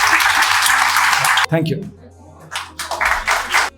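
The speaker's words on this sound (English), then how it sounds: "I put my hands together again with a great applaud for Zehwah Zahoor." An audience at a book launch applauds in a dense burst of clapping that stops abruptly, then resumes in scattered rounds while a speaker talks between them.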